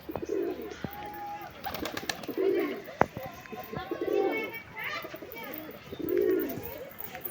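Pigeons bathing in the evening give several deep, rolling coos at a steady pace, close by, with a person talking over them and some wing flutters and clatter between calls.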